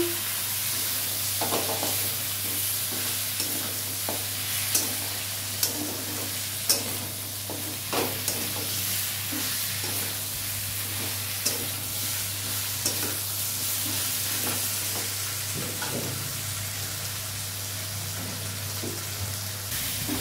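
Fish heads with turmeric powder fry in oil, a steady sizzle running throughout with repeated scraping and clinking as they are stirred, close and fairly loud.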